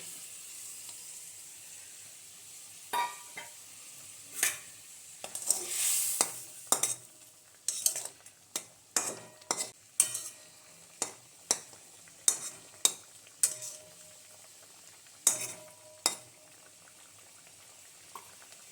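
Fish going into hot oil in a pan and being stirred, a low bubbling sizzle broken by a run of sharp spoon scrapes and clacks at quickening, irregular intervals, close by with no talking.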